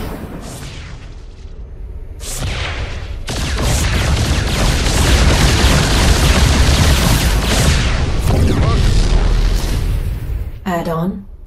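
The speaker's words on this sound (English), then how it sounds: "Hit him with the Yamato cannon." Yamato cannon blasts in StarCraft 2 build into a loud, sustained barrage of booming explosions, with heavy impacts setting in early and rolling on, and a brief synthetic unit voice near the end.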